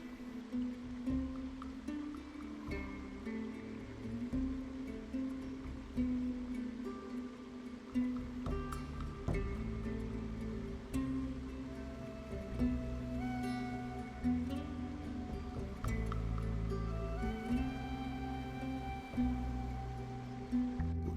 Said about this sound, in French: seul avec le bruit d'une rivière et du vent dans les arbres